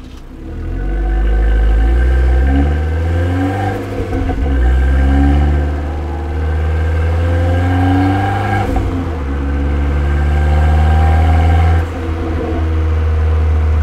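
An Abarth 500C exhaust pulls away from a traffic-light stop, its engine note climbing in pitch through several revving runs with short drops between them, loud and close throughout.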